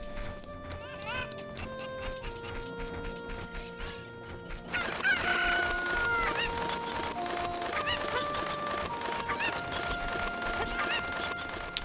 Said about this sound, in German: Bitte sagt mir, dass jetzt alle Hühner im Stall sind.